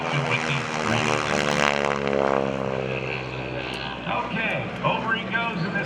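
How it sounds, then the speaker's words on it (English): Highly polished North American T-6 Texan with a 600 horsepower nine-cylinder Pratt & Whitney radial engine flying at an airshow, its steady propeller drone loud and continuous throughout with a slight rise and fall. "over he goes in this highly polished Texan"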